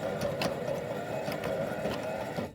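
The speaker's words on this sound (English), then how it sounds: "I'm going to sew this elastic in place. Best way to do it is start with the press foot in the middle of the elastic and then just go back and forth" A sewing machine stitches elastic back and forth with a close, steady mechanical whir and a rapid needle patter that runs without a break and then stops abruptly at the end.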